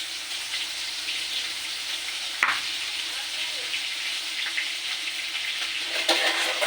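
Cumin seeds fry in hot oil in a pan with a bright, continuous crackling sizzle, close and fairly loud, marked by a couple of sharp clicks.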